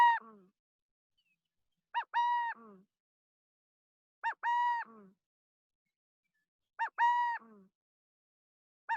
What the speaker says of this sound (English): So that little call actually belongs to the burrowing owl